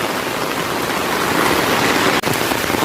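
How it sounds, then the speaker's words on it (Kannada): Heavy rain pours steadily in the Western Ghats near a resort, a dense, loud, unbroken hiss of falling water with no voices. "ಸಾಕಷ್ಟು ಮಳೆ ಬರ್ತಾ ಉಂಟು"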